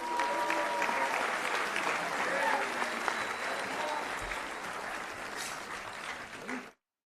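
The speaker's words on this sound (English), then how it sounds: "Please give a big round of applause for Mr." An audience at a football award ceremony applauds in a broad, sustained wash of clapping, with faint voices mixed in. It fades out abruptly.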